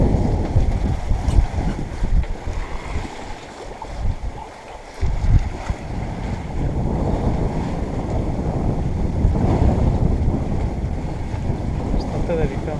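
A sailboat under way, steered by a Windpilot wind-vane, with steady wind buffeting the microphone and waves washing along the hull, a continuous rushing roar that dips briefly mid-way.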